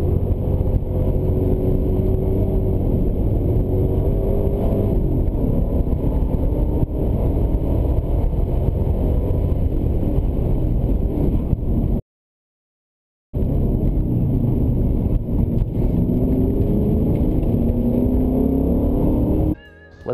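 A V8-swapped BMW M3 laps a race track, its engine droning loudly and steadily with rising and falling revs through gear changes. The sound cuts out briefly midway, then carries on.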